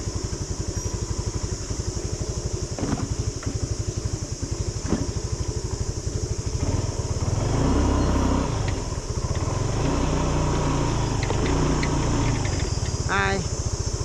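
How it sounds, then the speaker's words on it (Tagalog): A motorcycle engine warms up nearby with a steady, rapid idle putter that stays close and even, swelling slightly midway as revs rise and dip, with light clatter and a voice briefly audible near the end. "Mag-init muna tayo ng motor."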